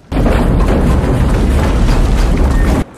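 Explosions roar through a burning Colosseum in a film scene, a continuous, loud, heavy blast and rumble that erupts almost at once and cuts off sharply near the end.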